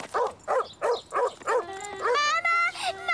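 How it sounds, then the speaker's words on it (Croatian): A dog in a children's cartoon lets out five sharp, evenly spaced barks that sound angry, then a voice breaks into a rising, frightened wail as the barking stops. "Pas mu je zvučao ljutito."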